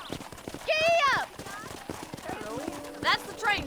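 Horse hooves pound in a steady clip-clop gallop in the PS5 game Red Dead Redemption, with a short whinny-like call and spoken dialogue layered over the hoofbeats.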